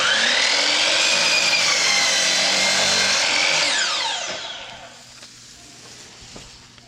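A power saw rips through plywood strips, cutting pieces for a beehive nuc box; a loud, close whining cut runs for about four seconds, then the blade spins down and fades.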